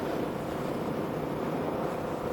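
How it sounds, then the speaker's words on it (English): While riding, a Honda CMX1100 motorcycle gives a continuous low engine drone mixed with wind rush, a steady close hum with no pauses or voice. "The sound of this is very thumpy, and as I'm going along on my way here"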